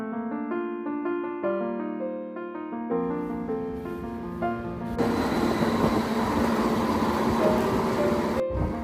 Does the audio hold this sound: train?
yes